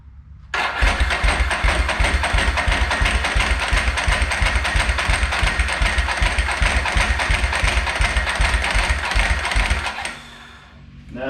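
A cold engine cranks on its starter for about ten seconds, a loud, steady, rapid rhythmic churning that stops abruptly without the engine catching.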